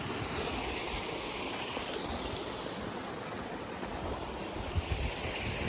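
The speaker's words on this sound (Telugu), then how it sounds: "భలే పడేట్లున్నాయి నీళ్ళు" Kethanahalli waterfall in Chikballapur, Karnataka, with water pouring and rushing in a steady, loud, continuous roar that fills the whole scene without a break.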